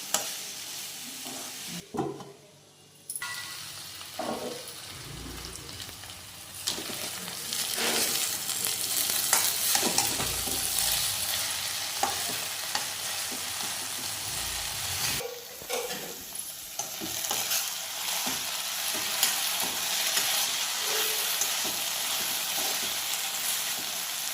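Food cooking with a lid on over low heat as sesame laddu mixture is made, giving a steady soft sizzle and faint bubbling hiss with a few light scrapes and clinks, heard on its own with no talk.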